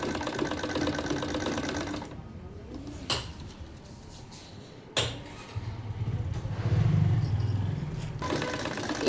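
A sewing machine stitching a skirt hem in lining cloth runs in close rapid bursts, pausing briefly with a few sharp clicks between stretches of steady mechanical whirring; no voices.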